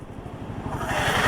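Royal Enfield Guerrilla 450 motorcycle engine runs with a rapid low pulsing thrum, building slightly as rushing wind noise rises over the final half second.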